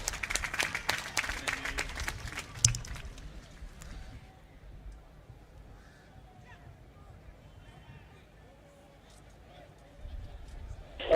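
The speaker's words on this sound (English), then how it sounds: "Let's give them a resounding round of applause." A burst of crowd applause and clapping for a few seconds at a military graduation ceremony in The Gambia, then it fades into quieter outdoor ambience with a brief clatter near the end.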